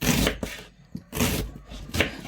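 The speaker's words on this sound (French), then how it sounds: "Ça, je coupe en tout petits morceaux. Des fines tranches." Kitchen knife chopping fennel into small pieces and thin slices on a cutting board, a few quick bursts of close, firm cuts with short pauses between them.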